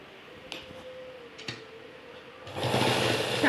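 A sewing machine stitching a blouse side seam runs with a faint steady whir and light ticks, then grows louder and denser near the end, close by with no talk.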